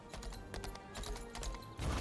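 Rhythmic clip-clop of horse hooves in a video game, a quick steady gallop-like patter heard close and fairly loud through the whole stretch with no talking over it.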